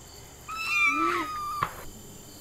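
A single kitten's meow rises and then falls, clear and close over a quiet background with a faint insect-like hiss, and a short click comes just after it.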